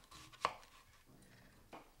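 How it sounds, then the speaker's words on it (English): A knife chops carrots into chunks on a cutting board in a home kitchen, one sharp close thunk followed later by a second softer cut, quiet otherwise. "we'll finish chopping those carrots into chunks"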